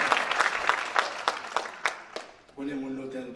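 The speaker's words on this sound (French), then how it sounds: "Mes amis, please, let's give it warm round of applause for this country." Audience applause at a Haitian music awards ceremony, a steady crowd clapping for about two and a half seconds and then giving way to a voice and music.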